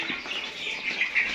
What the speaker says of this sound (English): You can see the birds enjoying a meal.